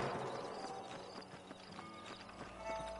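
Horses' hooves clip-clop in the Western game Red Dead Redemption, a quick uneven run of close, distinct hoof strikes over light background noise.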